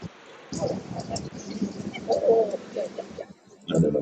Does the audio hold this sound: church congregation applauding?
no